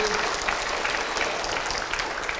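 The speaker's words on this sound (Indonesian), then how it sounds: "Tepuk tangan." Steady applause from a crowd, dense clapping filling the whole stretch at an even, fairly loud level.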